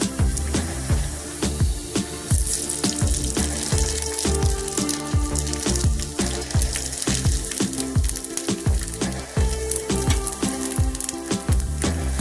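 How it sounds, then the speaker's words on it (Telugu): Sago vadiyalu, sun-dried tapioca pearl crisps, frying in hot oil: a loud, steady, dense sizzle with crackling pops and bubbling throughout, close up and with no voices. "చక్కగా వేగిపోతుంది చూడండి"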